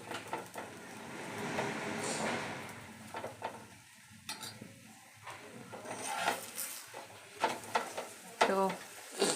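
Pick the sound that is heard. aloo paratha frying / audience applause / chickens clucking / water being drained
aloo paratha frying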